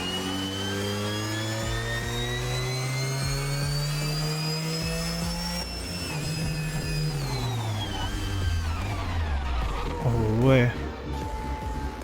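A Mazda RX-7 in the racing game Assetto Corsa roars and climbs in pitch, drops through a gear change, then revs up again loudly in a continuous whine.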